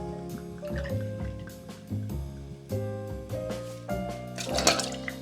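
Canadian vodka pours into a cocktail glass for a Vesper Martini, a close, gurgling trickle of liquid in short repeated pulses over a few seconds, with no talk.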